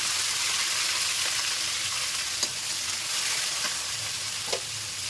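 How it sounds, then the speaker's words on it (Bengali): Chopped capsicum frying with garlic in a pan, a loud continuous hiss of sizzling oil with a couple of brief stirring clinks, no talk. "রসুন ভাজা হয়ে গেছে, এখন আমি দিয়ে দিলাম"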